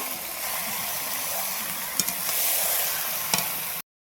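Chicken frying and being stirred through spice masala with a little yogurt over a wood fire, a dense close sizzle with a couple of sharp scraping stirs before it cuts off abruptly.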